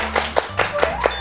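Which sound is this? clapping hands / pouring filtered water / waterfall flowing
clapping hands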